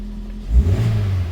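A used car at an auction gives one short, smooth rev, rising from a low idle into a brief throaty roar, heard up close.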